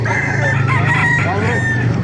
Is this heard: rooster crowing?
yes